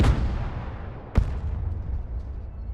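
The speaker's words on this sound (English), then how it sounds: "Bomb run on target." An airstrike bomb detonation in the war game Broken Arrow: a loud rumbling blast fades out, then a sharp, close crack lands about a second later over a low, sustained rumble.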